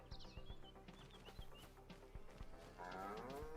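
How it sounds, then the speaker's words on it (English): Cattle mooing in a farming video game, several low calls repeating against steady game ambience, with a fuller rumbling swell near the end. "Yeah, moo cows."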